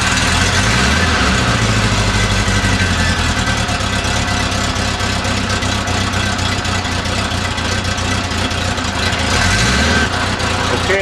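Honda Goldwing motorcycle engine idling steadily after a fuel pump rebuild, a continuous loud low rumble that holds for the whole stretch, with faint background noise and no talk over it.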